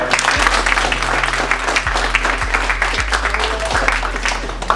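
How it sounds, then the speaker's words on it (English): An audience at a high school screening claps in a busy, sustained round of applause, with dense overlapping hand claps near and loud and a low background hum underneath. "let's give these guys a round of applause"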